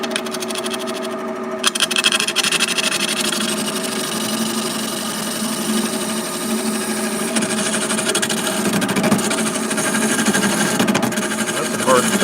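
A wood lathe spins a hollow form while a round carbide tool cuts into the hard wood, producing a continuous loud rumbling drone with a rough, chattering scrape layered over it and close by.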